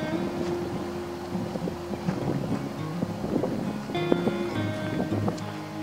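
Strong, steady wind gusts across a rainy-season campsite at Phu Ruea, a continuous rushing roar with microphone buffeting and some faint background tones.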